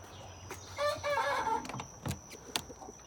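Chickens in a coop, including a barred rock hen near a nesting box, give a short burst of clucking and soft calls, with a few faint knocks around them.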